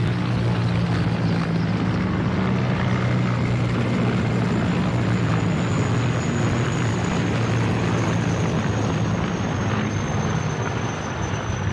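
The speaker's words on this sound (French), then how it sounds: "Les 2 hélicoptères Mi-35 se trouvent au niveau du flanc, derrière les 2 hélicoptères Mi-17." Steady, loud rotor drone of Mi-35 and Mi-17 military helicopters flying overhead in formation, a continuous thrumming roar with a faint high whine, no voices.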